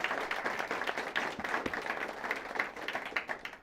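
Audience applause in a school academic competition hall, greeting the judges; steady mid-distance clapping from a modest crowd, fairly quiet and sustained throughout.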